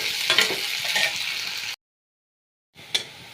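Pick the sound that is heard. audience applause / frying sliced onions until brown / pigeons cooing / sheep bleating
frying sliced onions until brown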